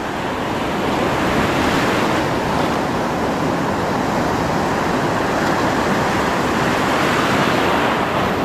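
Rough sea surf pounds a shore fishing spot in a continuous loud wash of breaking waves and spray, mixed with wind buffeting the microphone, with no voices.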